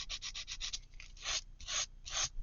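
Sandpaper scrubbing a magazine page in short quick rubbing strokes, a dry rasping series close by, then a few longer, slower swipes; no voices.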